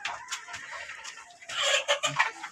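Egyptian Fayoumi chickens on a small farm with 300-plus birds, clucking close by in several short overlapping bursts that grow busier near the end.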